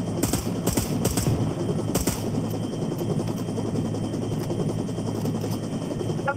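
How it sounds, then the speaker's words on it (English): A helicopter in an online battle video game, with a steady rotor thrum over faint rapid gunfire bursts at the start, heard without talking. "He throws a chopper. I'm near the chopper."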